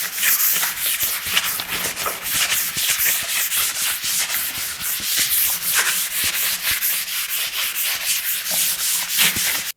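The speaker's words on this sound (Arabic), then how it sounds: "هناخد صنفره 320 وهنبدا نصنفر الشكل بالكامل، وهنصنفر بضمير" Sandpaper of 320 grit rubs across a painted brick-effect decorative wall in steady back-and-forth strokes, a close, continuous hissing scrape with no talk.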